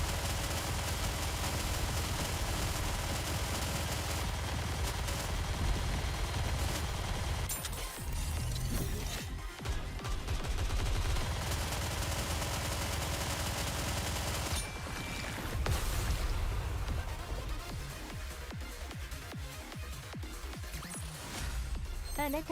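Sniper and other gunfire ring out in the video game Nikke, dense bursts and shots layered over constant game music and effects, with a few brief pauses.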